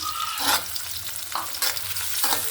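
Chopped onion and garlic fry in a pan with a steady close sizzle, broken by three or four scraping stirs of a spatula, no voices.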